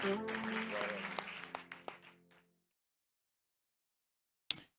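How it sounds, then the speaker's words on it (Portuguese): Church congregation clapping together, a dense burst of applause with a few louder claps that fades out after about two seconds, followed by silence and one sharp knock near the end. "Vamos aplaudir o Senhor Jesus."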